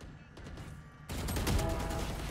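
Machine gun fire in a video game, a fast dense burst of rapid shots that kicks in abruptly after a quieter opening and continues loud to the end.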